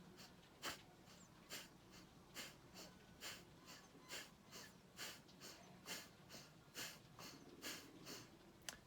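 Rhythmic Kapalabhati yoga breathing, about fourteen sharp, forceful nasal exhalations at an even quick pace with quiet passive inhales between them, close and alone.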